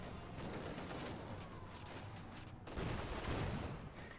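Tank gunfire in the video game Company of Heroes 2, with a Panzer firing: dense, noisy battle sound with layered shots and rumbling, and a louder burst near the end, fairly quiet overall.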